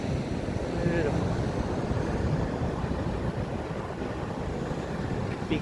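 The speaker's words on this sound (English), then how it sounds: "Big waves." Big ocean waves roll onto a beach as a constant, dense roar mixed with gusting wind noise, loud and steady throughout.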